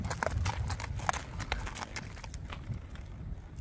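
A 10-year-old black and white Tennessee Walking Horse mare walks with a steady, even clip-clop of hooves, moderately close and fairly quiet, over a light background hiss with no talking.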